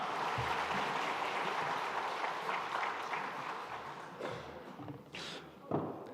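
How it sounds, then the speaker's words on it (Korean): A church congregation at a Sunday service applauds seniors who have completed a course, a soft spread of many hands clapping that thins toward the end with a few louder individual claps. "우리 권사님 집사님께 우리 격려의 박수 드리도록 하겠습니다."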